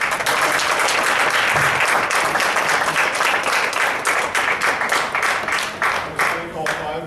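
Audience at a campus debate applauding the panelists, a loud sustained round of clapping that gradually loosens into scattered individual claps toward the close.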